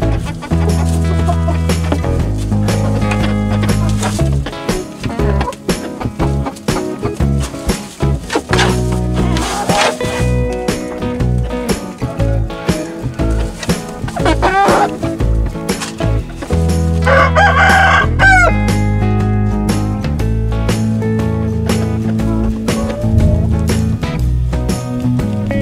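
Shamo chickens cluck repeatedly and crow loudly at close range over a long stretch, with scattered bird calls and farmyard noise throughout.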